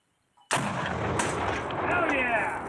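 A Russian tank fires a live round at an outdoor range, one sudden huge blast that rolls into a long, loud, sustained rumble and echo.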